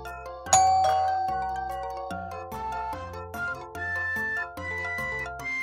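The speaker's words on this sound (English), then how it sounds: "The doorbell rang." A multi-tone electronic doorbell chime plays a clear, sustained melodic ding-dong sequence, loud and close, ringing on for several seconds in a staged home classroom scene with no talking.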